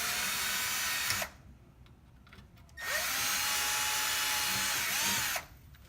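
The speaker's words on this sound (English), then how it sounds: "So we can drill those 3 holes out" A power drill boring holes through rock blockers for a Can-Am Maverick, two loud sustained whining runs separated by a short quiet pause, close up.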